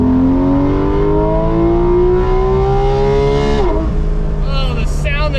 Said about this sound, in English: all motor Porsche noises